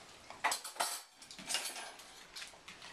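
Silverware clinks against dishes while a dishwasher is unloaded, a few sharp metallic taps and rattles at close range with quieter handling noise between them.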